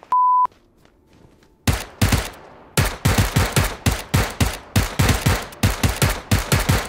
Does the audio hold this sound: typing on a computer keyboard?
no